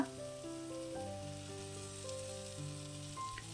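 Ground onion paste hits a hot pan for egg curry and gives off a steady, soft sizzle that lasts throughout, with faint tonal background music underneath.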